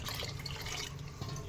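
Water is poured into a pot of rice in AMC cookware, four glasses for two of rice, giving a soft, steady trickling splash heard faintly and alone.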